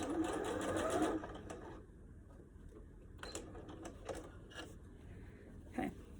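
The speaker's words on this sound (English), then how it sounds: "I'm gonna stitch over the other end" A sewing machine stitches across elastic ends on a pleated fabric face mask, running in a close rapid whir for about a second, then pausing with a few short stitching bursts.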